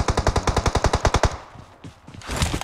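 Gunfire from the video game PUBG Mobile comes as a rapid automatic burst of about a dozen evenly spaced, loud shots. Fainter game noise and rustling follow.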